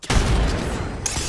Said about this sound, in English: Lob in a frag.